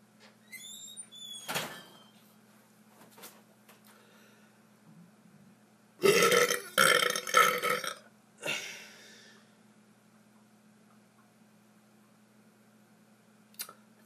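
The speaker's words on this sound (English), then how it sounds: "I am making a burping video." A person burps several times, loud close belches clustered in a long rumbling burst midway with a shorter one after, separated by quiet stretches and a few small mouth sounds.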